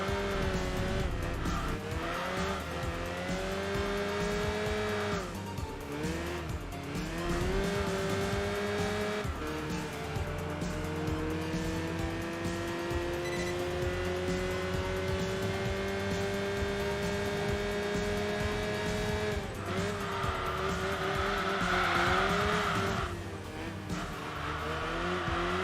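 A lightweight race car in Enthusia Professional Racing strains uphill at full throttle, its engine droning loud and steady with a slowly rising pitch, broken by brief gear-shift dips and a tire squeal near the end.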